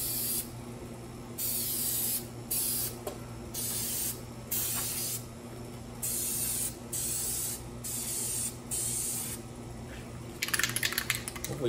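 Plasti Dip coating sprayed from an aerosol can onto a Buell XB9SX motorcycle, heard as a series of close hissing bursts of a second or two each, separated by short pauses, over a steady background hum.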